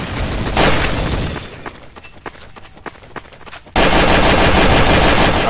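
Gunfire in the video game Counter-Strike Source: a loud automatic burst opens, then scattered single shots and clatter follow, before another dense, continuous blast of firing to the end.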